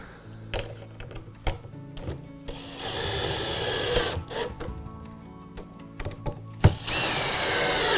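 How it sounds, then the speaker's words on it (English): Phillips screws being driven into the base of an Amish handcrafted garden lighthouse, heard as a close power driver's whirring bursts mixed with clicks, knocks and handling clatter, ending in a longer sustained whir. "Need to fasten that with the Phillips screwdriver."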